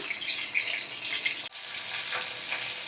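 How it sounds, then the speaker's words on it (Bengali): Koi fish frying in hot oil in a wok, a dense bright crackling sizzle that runs throughout, briefly dipping once midway before resuming. "গরম তেলে আমি সুন্দর করে ভাজা করে নেব"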